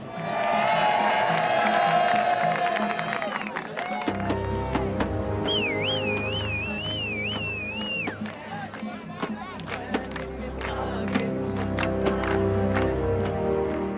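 A large modern crowd gathered at a temple of Ramses cheers loudly, with whoops, shouts and high wavering calls rising over a dense, sustained roar.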